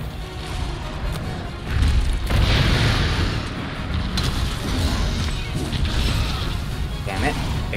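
Booming explosions and crashing impacts during a monster fight in Monster Hunter World: Iceborne, loud and dense with heavy low rumble throughout, with a voice speaking over the action.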